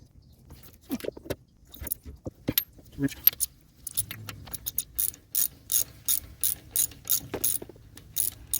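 A ratchet tightens a caliper bolt on the front brakes of an Acura MDX, giving a burst of quick, evenly spaced metallic clicks near the mic after some scattered clanks and tool handling.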